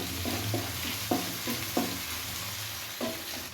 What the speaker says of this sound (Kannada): ಈರುಳ್ಳಿ ಚೆನ್ನಾಗಿ ಫ್ರೈ ಮಾಡ್ಕೊಳ್ಳೋಣ ಕೆಂಪಗಾಗೋ ತನಕ.